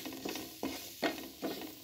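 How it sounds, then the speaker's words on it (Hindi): Onions lightly frying in a pan for an aloo samosa filling, with four evenly spaced stirring scrapes over a soft continuous sizzle, close and moderately quiet. "फिर प्याज हो गए हमारे पास हल्के से फ्राई में।"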